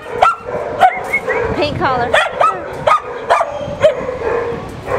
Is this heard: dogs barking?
yes